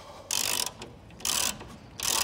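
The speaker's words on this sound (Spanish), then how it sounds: "Encajamos la llave de 14 y aflojamos el tornillo de la violeta, la tuerca de la violeta." A 14 mm ratchet wrench loosens a rear shock absorber nut on a 2005-2012 Chevrolet/Daewoo Lacetti Optra, three short bursts of close, quiet ratcheting clicks with pauses between them.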